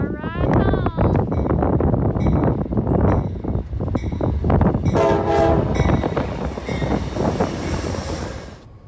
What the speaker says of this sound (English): everybody's just going to get on the Amtrak train